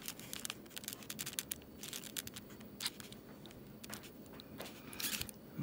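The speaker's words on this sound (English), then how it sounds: "I'm gonna see if the scissors will work this time." Scissors snipping through a frog during dissection, a run of quick close crisp cuts and clicks repeating irregularly across the span, fairly quiet with no talking.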